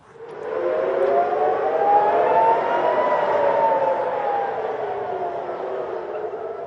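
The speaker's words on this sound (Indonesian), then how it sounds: "Suara peringatan sirine dan ledakan kembali terdengar di Tel Aviv, Israel pada Selasa dini hari." A long wailing air raid siren rises and holds steady, loud and continuous, slowly fading slightly toward the end, sounding before dawn in Tel Aviv, Israel, during the Iran-Israel war.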